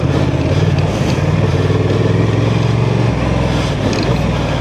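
A 2024 Honda Transalp 750 motorcycle rides an off-road OHV trail, its engine droning loud and close in a steady, even tone that shifts slightly in pitch partway through.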